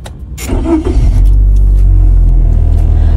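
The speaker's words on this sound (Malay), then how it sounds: "Okey, jom kita tengok bila saya start enjin." A car engine cranks briefly and catches, then settles into a steady low idle rumble; the car is fitted without a Voltecx voltage stabiliser, close and fairly loud with no talking.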